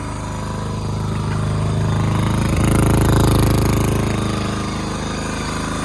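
A Honda XR400 dirt bike engine idles on choke with a constant low rumble and rattle, close and loud, rising slightly in the middle before settling back.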